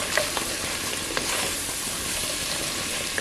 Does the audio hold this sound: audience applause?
no